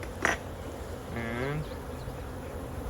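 Bees buzz faintly around an opened beehive, a soft wavering hum with one closer pass drifting through midway, over a steady low background.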